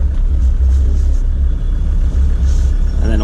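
A Land Rover Defender Td5 fitted with FloFlex bushes rolls over an off-road obstacle. A heavy, steady low engine and drivetrain rumble fills the cabin, with a brief creak near the end.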